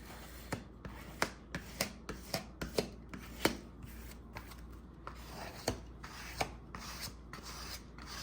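A scraper rubbed firmly over paper during journal making, giving a run of short, rasping strokes in a steady rhythm, close and fairly quiet with no talk.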